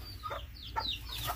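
Two young chicks of a crested hen peep in thin, rising calls, three or four short chirps spread over a moment, faint against a low background hum.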